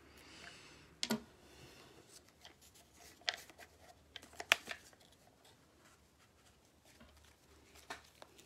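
Tarot-style lettered cards shuffled by hand in a quiet room, with soft papery riffles and a few sharper flicks and taps scattered across the take.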